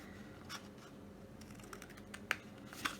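Scissors cut through paper for a pop-up card, a few faint, crisp snips and scratches scattered over a quiet background.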